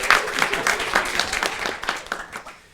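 Audience applause at a games panel discussion: a burst of scattered hand claps, fairly close, with a few voices underneath, thinning out and fading toward the end.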